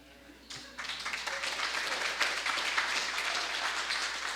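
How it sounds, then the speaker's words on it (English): A crowd at a State of the City address breaks into steady applause that swells quickly and continues for several seconds, filling the room. "So that was my applause and you stole it"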